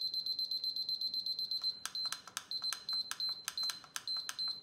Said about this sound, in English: So let's set our timer.